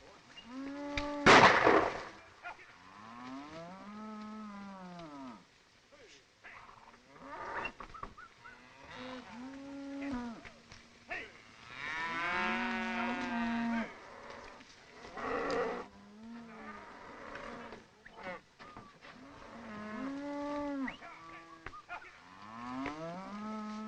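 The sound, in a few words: cattle herd mooing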